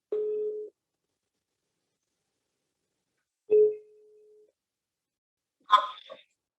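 A phone line rings out during a call: two separate low, steady ringback tones a few seconds apart in otherwise silent air, followed by a brief, rougher burst of sound at the end.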